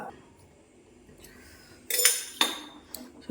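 A spoon clinks against a pot while salt is stirred into a Tamil-style dal curry, giving a few sharp metallic taps in close succession after a quiet start.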